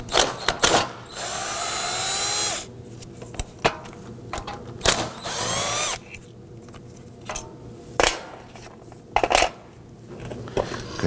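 Power tool fitted with a T40 Torx bit loosening screws on a power steering pump bracket of a 2005-2009 Subaru Legacy 2.5L H4, heard as several short whirring bursts separated by pauses and metallic clinks, close and fairly loud.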